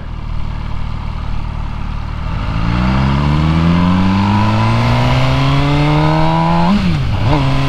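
MV Agusta Brutale 1000 RR motorcycle revving loud and close, its engine pitch climbing steadily through one long pull before a quick drop and rise at the end, heard alone.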